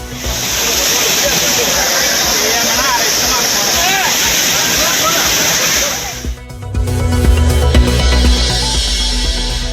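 Courtallam waterfalls pour in a loud, steady rush of broadband water noise that fills about six seconds, then shift abruptly to a different scene with lower rumble and a mix of sounds.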